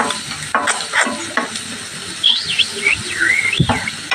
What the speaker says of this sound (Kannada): ಚೆನ್ನಾಗಿ ಫ್ರೈ ಮಾಡಬೇಕಿದು ಕೆಂಪುಗೆ.